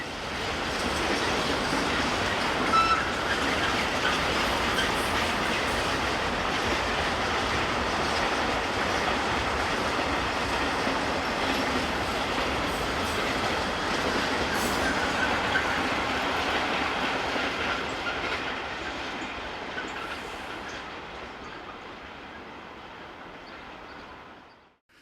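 Two locomotives haul a Hupak intermodal freight train past on the main line in Switzerland, a long continuous loud rumble and rattle of wagons and wheels that eases off near the end.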